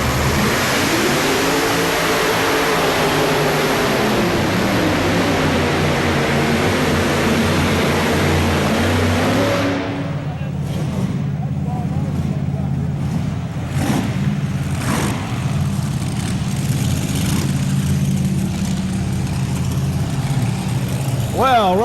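Modified pulling tractor engine at an indoor tractor pull in Louisville, Kentucky, roaring loud and continuous with a rising then falling pitch, then dropping to a lower rumble over the crowd, with an announcer talking throughout.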